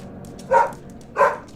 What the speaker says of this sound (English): You can bark while you're in the sky, too.